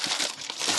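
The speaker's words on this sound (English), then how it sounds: "make sure this plastic bag is sat nicely under this oil filter to catch any old" A plastic bag crinkles and rustles in a brief, close burst of crackling as it is tucked under an engine oil filter during an oil change.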